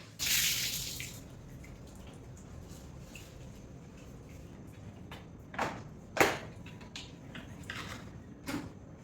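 Water poured from a vessel onto a dried-out potted plant at home, a brief splashing burst at the start followed by quiet trickles and a few soft splashes and drips, close and faint.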